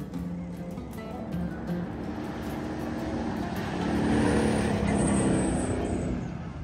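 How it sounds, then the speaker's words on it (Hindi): A car drives past outdoors at moderate distance, its engine and tyre noise rising to a broad swell near the end and then easing off, with faint background sounds and no clear talk. "ये गाड़ी गुजर चुका है"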